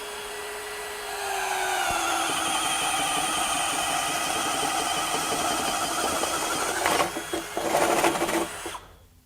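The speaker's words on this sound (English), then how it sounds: "Again, this is a 1-inch self-feed spade bit." A Ryobi right angle drill bores with a 1-inch self-feed spade bit, spinning up into a loud, steady, high-pitched whine held for several seconds, then stuttering with uneven bursts as the cut finishes before stopping.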